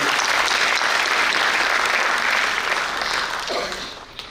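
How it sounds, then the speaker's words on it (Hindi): Audience members at a Balram Jayanti gathering clap for one another, a dense and steady burst of applause that stays loud before thinning out toward the end. "और हम सभी एक दूसरे के लिए ताली बजाएंगे"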